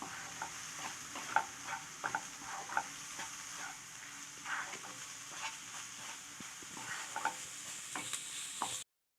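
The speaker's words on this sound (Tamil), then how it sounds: "இதையும் சேர்த்து நல்லா கிளறி விடுங்க." Soya chunks are stirred through a gravy in a pan, with a soft spoon scraping in irregular strokes over a faint continuous sizzle, close and fairly quiet, no talk.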